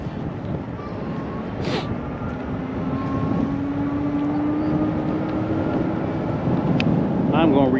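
eAhora X5 Plus e-bike motor while riding uphill, a faint rising whine under steady wind rush, with brief rattles near the end.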